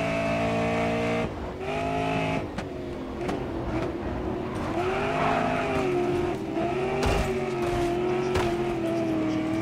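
Race cars roar continuously in the racing game GRID Autosport, engines revving and shifting pitch up and down with tires squealing, loud and close throughout, with no talk over it.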